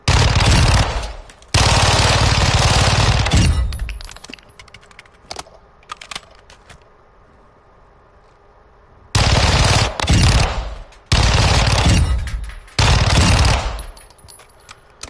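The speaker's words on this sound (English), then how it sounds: "For 9mm SMG, it has an extremely high firing rate." A 9mm SMG in Modern Warfare II fires in rapid full-auto bursts, loud and close, with short pauses and quieter single shots between the long strings of fire.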